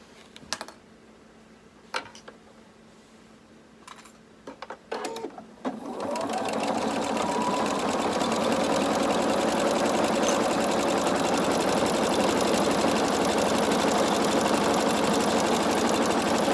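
After a few clicks and handling sounds, a sewing machine starts up and stitches fabric for a maxi skirt in a long, steady, close rattling run that continues to the end.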